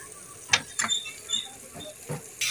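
Fresh coriander being crushed by hand with a wooden pestle in a village kitchen, giving a few separate soft knocks and scrapes, fairly faint, with no voices over them.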